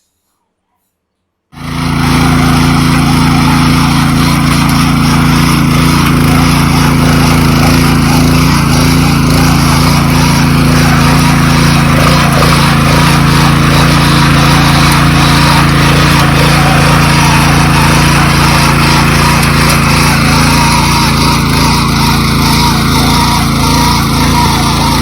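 A mini tractor ploughs a hillside field in Uttarakhand. After a second and a half of silence, a loud, steady engine drone starts up and runs continuously without a break.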